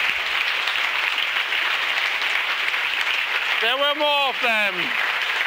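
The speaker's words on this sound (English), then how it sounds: "so we can give the organizers a big thank you applause for creating this wonderful EuroPython" Conference audience at EuroPython lightning talks applauding the organizers, a thick, steady wash of clapping that continues as a voice speaks briefly over it near the end.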